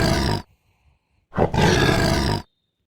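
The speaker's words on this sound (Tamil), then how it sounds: "சிங்கம்" Lion roars in a cartoon, two loud close bursts, a short one followed by a longer sustained growling roar after a brief silence.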